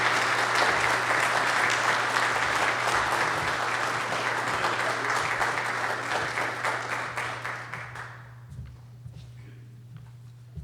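A civil war heritage area annual meeting audience applauds to welcome a speaker, dense steady clapping that holds for several seconds, then thins into scattered claps before fading out.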